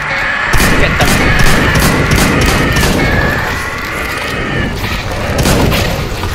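Sustained gunfire in a CS:GO Zombie Escape round, loud and dense booming shots layered under a steady electronic tone, rolling on continuously with no clear gaps.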